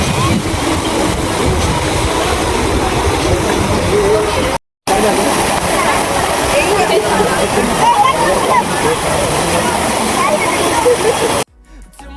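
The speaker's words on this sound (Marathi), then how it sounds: "आता आम्ही धबधब्याच्या प्रवाहामध्ये खाली आलो" Ozarde waterfall in Maval, water pouring over rock in a dense, loud, unbroken rush heard close up, cut by a brief dropout partway through.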